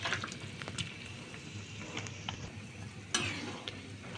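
Tengra fish being stirred in a simmering tomato curry, with soft scraping and sloshing strokes from a spoon in the pot and a quiet bubbling sizzle underneath, close and fairly faint.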